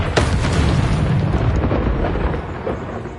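A loud, close blast from the Confringo spell in a Harry Potter video game, a sharp bang rolling into a deep rumbling explosion that fades over a few seconds.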